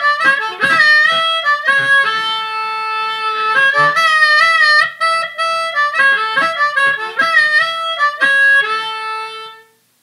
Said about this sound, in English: You get a very different sound when you play your harmonica through an amplifier